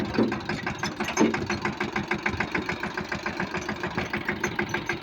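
A tractor engine runs steadily on the way home from a farm field past cotton crops, a close, even mechanical chugging with a regular pulse and no voices over it.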